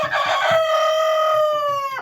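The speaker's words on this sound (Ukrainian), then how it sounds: "Ой, півень заспівав." A rooster crows once, loud and close, a long drawn-out call that rises and holds before cutting off abruptly.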